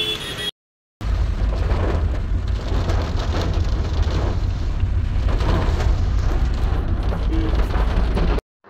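Heavy rain pours down steadily outdoors near cactus plants in a crowded place, a loud, dense and continuous hiss with a deep rumbling wash underneath, cutting off briefly near the start.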